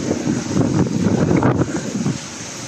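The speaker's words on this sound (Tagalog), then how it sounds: "Ang lakas ng hangin" Strong typhoon wind roars and buffets the microphone in a loud, continuous rush that eases slightly near the end, during heavy rain in Divisoria, Manila.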